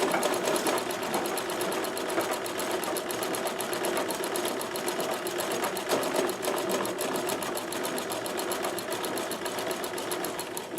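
A Singer 237-M-A sewing machine runs steadily for several seconds sewing a zigzag satin stitch, a fast even mechanical whir with rapid needle ticking, close and continuous with no talking.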